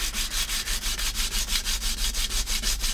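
Wood being sanded by hand with sandpaper: a steady, rhythmic rasping scrub of back-and-forth strokes, close and continuous with no voices.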